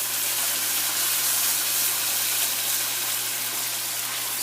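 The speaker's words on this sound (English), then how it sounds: "add some water to the masala so that it doesn't get burnt" A loud, steady sizzle and hiss follows water added to a turmeric masala frying on high flame, with a constant gushing steam noise throughout.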